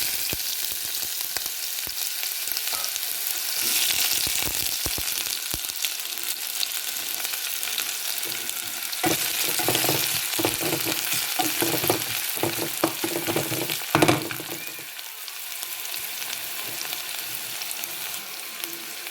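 Onions go into hot oil with fennel seeds for a fish curry, giving a strong steady sizzle with scattered crackles and spits that bursts louder partway through and then settles, with no one talking.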